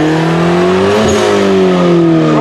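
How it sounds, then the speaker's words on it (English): A car engine revs up loudly close by, pitch climbing and then falling back as it eases off. "Yo, what are you revving it to?"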